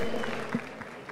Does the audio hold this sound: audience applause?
yes